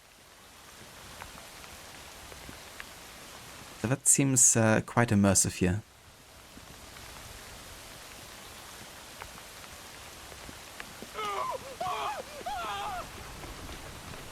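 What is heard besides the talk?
rain pouring in Assassin's Creed video game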